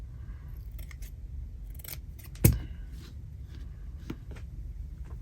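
Scissors snip fabric into a rough hexagon, one sharp close cut standing out over faint rustling and a few softer snips, with no talking.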